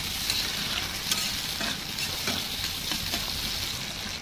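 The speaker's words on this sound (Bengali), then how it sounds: "এগুলো আবার ভালো করে নাড়াচাড়া করে নেবো এভাবে" Onion and chopped tomato fry in a pan while being stirred, producing a close, dense sizzle broken by soft scraping strokes of the spoon.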